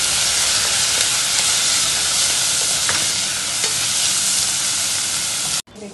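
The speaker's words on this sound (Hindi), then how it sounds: "देखिए, गाजर और प्याज थोड़ा सॉटे हो चुका" Chopped carrots and onions with ginger-garlic paste sautéing in a pan for water chestnut chow, stirred throughout; a loud, continuous close sizzle with scraping stir sounds, cut off abruptly near the end.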